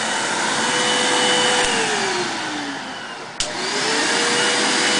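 A vacuum cleaner drones steadily close by, its pitch dipping and rising as the motor strains, with a brief knock midway.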